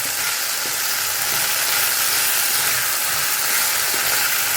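Food sautés steadily in a pan over a low gas flame, giving an even, continuous sizzle and hiss with no break and no talking.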